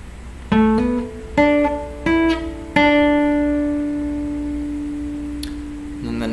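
An acoustic guitar plays a solo: four plucked notes with slides between some of them, the last one ringing out long and fading slowly, played close and alone.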